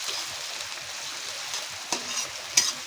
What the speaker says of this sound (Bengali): এবার আমরা পেঁয়াজটাকে লাল লাল করে ভেজে নেব। এইভাবে নাড়তে থাকবো পেঁয়াজটা দিয়ে।